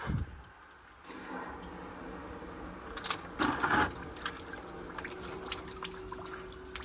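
Water pours and trickles out of a leaking boiler system with a failed main heat exchanger, a close splashing gush that swells midway with dripping, over a faint steady hum.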